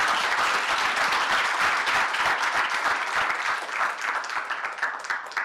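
Steady audience applause with dense clapping filling the room at an even, loud level throughout, tapering slightly toward the end, at an innovation management standards committee event.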